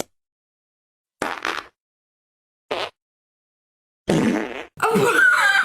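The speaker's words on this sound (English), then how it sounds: "How I think people fart in my class." A series of fart sounds comes in separate bursts, two short ones followed by two longer, louder, drawn-out blasts close to the microphone.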